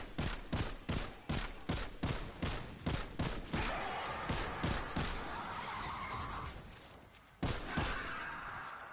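Rapid rifle fire from a scout rifle in the sci-fi shooter Destiny, a steady string of loud, sharp shots at near-regular intervals, then a brief pause and a few more cracks over a rushing background.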